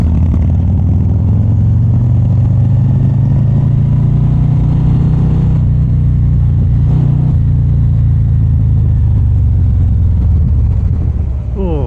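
A 2024 Harley-Davidson Street Glide sits in neutral in the rain, its engine producing a loud, close, steady low throb whose pitch swells gently and then settles.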